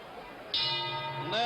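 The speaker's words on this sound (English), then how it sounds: "And there's the bell" A boxing ring bell ends a round during the Joe Frazier vs Muhammad Ali fight, ringing out bright and sustained twice over crowd noise, with a second strike near the end.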